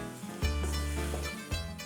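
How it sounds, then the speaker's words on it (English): Onions sizzle and fry steadily in a hot pan in a Cypriot home kitchen, a continuous close crackling hiss with a few brief surges, no talking. "Now, add the onions. But you don't need to brown these off, it's just until they become nice and translucent."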